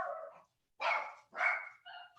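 A dog barks at a window in three quick, close, fairly loud barks, after a shorter opening yelp, with brief silences between them and no talking.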